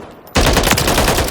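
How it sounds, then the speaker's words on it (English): Heckler 556 assault rifle in Call of Duty Modern Warfare III opens up after a brief quiet moment, firing a loud, sustained automatic burst of rapid, closely spaced shots that continues to the end. "This is the Heckler 556, so the assault rifle version."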